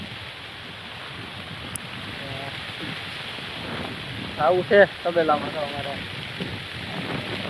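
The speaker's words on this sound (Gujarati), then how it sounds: "બાકી તો આનંદ માણીએ વરસાદનો." Steady rain falls at a village dairy farm stable, a continuous close hiss of drops on surfaces that runs throughout, with someone briefly speaking over it partway through.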